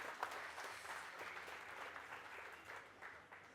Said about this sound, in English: Round of applause for our judges again, folks